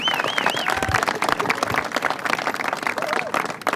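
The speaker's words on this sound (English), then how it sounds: "please give a warm round of applause for my friend and colleague, our City Council President, Todd, Gloria." A crowd at an outdoor Balboa Park evening event breaks into dense, sustained applause mixed with cheers and whistles, loud and continuous for several seconds.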